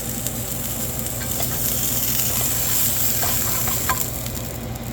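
Wild coho salmon searing in a pan, a dense, even sizzle close by with faint clinks and stirring sounds, steady throughout and no voices.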